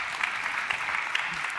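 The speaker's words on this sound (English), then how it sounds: "Please give them also a round of applause" Audience applause for guests joining on stage at a solution forum session, steady dense clapping from a crowd, moderately loud and even throughout.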